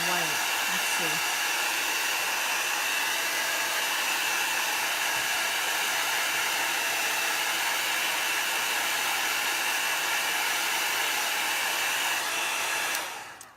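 A handheld dryer blows steadily on chalk paste drying on a snow-globe tree craft project, a loud, close, continuous whooshing that holds unchanged for about thirteen seconds before cutting off abruptly, with no talking.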